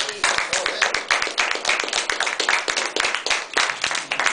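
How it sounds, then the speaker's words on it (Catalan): Hand clapping from an audience at a Manipulator game session during the DAU festival in Barcelona, a fairly small crowd giving dense, uneven claps that run steadily throughout, close and moderately loud. "aplaudiment, primer de tot!"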